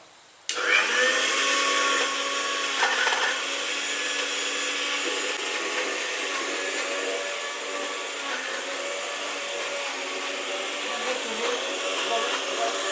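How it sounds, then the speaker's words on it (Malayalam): A kitchen mixer grinder blending avocado switches on abruptly and whirs loudly and steadily, its high motor whine holding for several seconds with slight shifts in pitch. "അപ്പൊ നമുക്ക് മിക്സിയിലിട്ട് അടിക്കാം കേട്ടോ"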